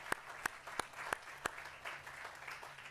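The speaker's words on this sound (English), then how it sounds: "round of applause for all of you" Faint round of applause at a Michigan State University plant science greenhouse opening, led by a few sharp, evenly spaced close claps before softening into scattered, distant clapping.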